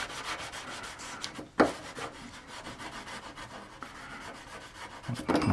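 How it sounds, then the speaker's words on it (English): Close, steady rasping strokes of a fine sanding stick against wood on a model ship repeat in a quick rhythm, with one sharper scrape partway through and no talking. "Should I maybe be moving to the fine sanding stick"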